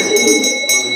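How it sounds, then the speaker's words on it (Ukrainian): An electric school bell rings loudly at a graduation ceremony in a prison school, a bright, buzzing metallic peal in short bursts with a brief gap. "Лунає дзвоник"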